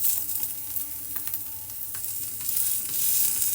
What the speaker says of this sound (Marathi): या साईडने पण भाजून घेते